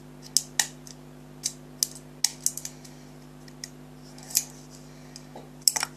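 Short scissors snip through a cardboard toilet paper roll in a series of sharp, close clicks and crunches, scattered irregularly with brief pauses between cuts.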